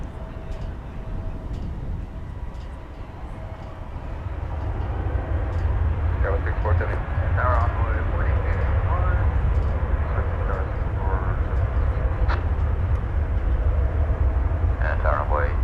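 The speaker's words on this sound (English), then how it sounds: "It's an Airbus A320 flight number 683, it appears." A Viva Aerobus Airbus A320 roars at DFW Airport as a deep, broad engine rumble that swells after a few seconds and holds loud and steady, with faint voices in the background.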